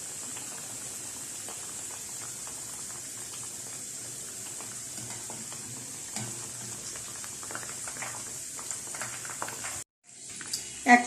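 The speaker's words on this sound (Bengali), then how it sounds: "এটা ডুবো তেলে ভাজতে হবে, সেজন্য আমি একটু তেল বেশি দিয়েছি" Dal puris deep-fry slowly in plenty of oil over a low flame, a soft, continuous bubbling sizzle with faint clicks, broken briefly by a short gap and a louder knock at the end.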